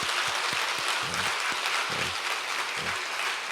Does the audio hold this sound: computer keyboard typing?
no